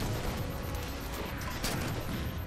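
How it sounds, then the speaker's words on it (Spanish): Gunfire from a first-person shooter, Halo 4 on PC, as the player shoots a turret to kill a Grunt; a dense, continuous burst of shots fills the whole stretch at steady loudness with no talking. "Le disparo a la torreta para matar un Grunt."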